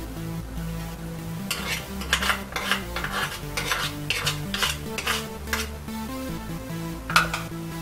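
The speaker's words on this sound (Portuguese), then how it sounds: "Agora nós vamos mexer todos os ingredientes, fazendo uma farofinha única" Salt and rustically chopped garlic are stirred into a seasoning mix for cured pork loin, with a utensil scraping and clinking against a bowl in short repeated strokes, close and clear over a faint background of music.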